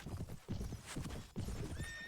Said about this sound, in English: Cavalry's just charging like crazy.